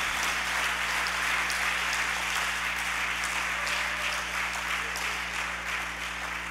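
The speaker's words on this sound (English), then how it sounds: "Please, a round of applause for him." An audience at a university 70th birthday and retirement program gives a round of applause for a professor, continuous dense clapping lasting the whole stretch at an even level, heard over a steady low hum from the hall's sound system.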